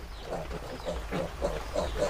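Large pigs on a farm grunt in a quick series of short, rough snorts over a steady low rumble of the pen, close by, with no one talking.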